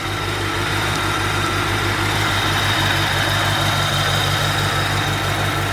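A Corvette engine idles steadily while its cooling system purges air after a refill. The low rumble is continuous, close and fairly loud, with a faint high whine above it and no talk.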